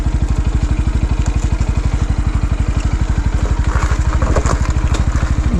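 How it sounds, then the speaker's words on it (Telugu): A motorcycle engine runs loud and close in a steady, fast chugging rhythm, idling just after being started on a hill road at Undrukonda near Suryapet, with no talk over it. "మళ్ళీ అయితే బైక్ అయితే స్టార్ట్ చేద్దాము"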